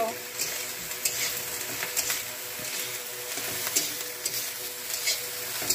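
Kharkol leaf paste frying in a village kitchen pan is stirred with a spoon, giving a steady close sizzle broken by soft scraping and light taps of the utensil against the pan.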